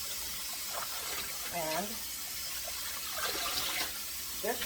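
Tap water running steadily into a sink while collard greens are washed, a soft continuous hiss with faint splashes, and a brief spoken word over it.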